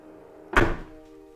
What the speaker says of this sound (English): Now, let's close the door.